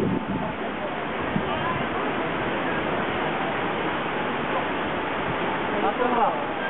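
Tsunami floodwater rushes through Sendai, Japan, as a broad, continuous roaring wash that stays loud and steady throughout, with faint voices mixed in and no clear speech.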